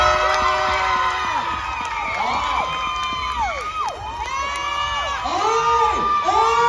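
A festival crowd at the Philippine Festival in Yoyogi Park, Tokyo, cheers loudly for a contestant, sustained shouting with high whoops and children's voices rising above the roar.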